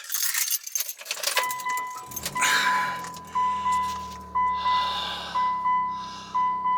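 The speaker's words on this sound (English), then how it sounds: "Start the car up." Keys jangle close by, then a car engine cranks and catches to a low steady idle while a repeating electronic dashboard chime pings over it.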